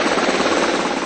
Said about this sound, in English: Moments later, 2 choppers touch down, bringing in the wounded from the battlefield.